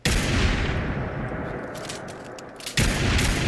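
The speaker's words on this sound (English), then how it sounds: "I'm going to take an intentionally loud gun like this 50 cal we went over earlier." A .50 cal gun fires loudly in the video game Fallout 4, producing a dense, roaring wash of blasts. The sound dips briefly, then another heavy burst cuts in. No one speaks.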